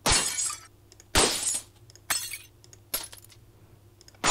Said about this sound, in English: Glass shatter, glass impact.